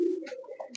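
A racing pigeon in a loft gives one short, soft coo, close by and alone.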